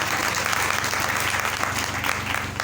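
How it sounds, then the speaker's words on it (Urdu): A church congregation applauds together in a dense, steady burst of clapping that fills the room at even volume throughout. "آئے ہم سب زوردار تالیاں خدا کے پاک کے لیے بجا دیں۔"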